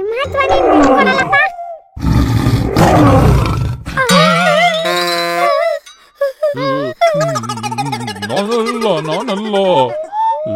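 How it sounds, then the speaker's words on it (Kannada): Cartoon lion roar, voiced by a character in a children's animated show, with loud exaggerated growling bursts alternating with animated character talk. "ನಾನು ಸಿಂಹ ಧ್ವನಿ ಬಿಟ್ಕೊಡಲ್ಲಪ್ಪ."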